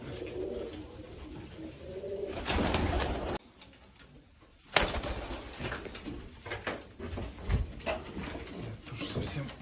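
Uzbek pigeons coo softly in a nearby loft, with low rolling calls over rustling and handling noises, one abrupt quiet gap, then the cooing resumes amid shuffling.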